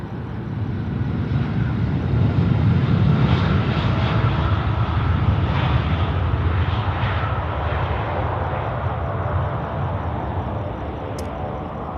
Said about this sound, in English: We've got Scoot now, the 787, ripping it up